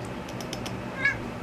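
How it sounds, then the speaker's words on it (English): A house cat gives a short series of soft, close meows with a faint background hum, and a brief higher chirp follows near the end. "The cat is here to keep me company."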